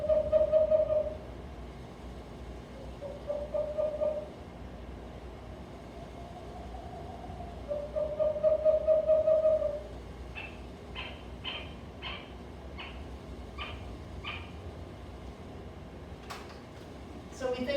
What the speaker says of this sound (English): Western screech owl.